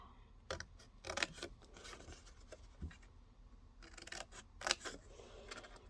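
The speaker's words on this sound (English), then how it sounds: "Just cut those pieces away." Scissors snipping away paper pieces for a Halloween shadow box craft, a series of short, crisp cutting bursts at close range, irregularly spaced with quiet pauses between them.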